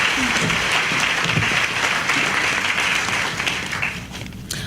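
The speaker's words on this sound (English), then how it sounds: "Please give another round of applause for all of our winners." Pre-commencement audience applauding award winners, a steady, dense round of clapping from a crowded hall that tapers off toward the end.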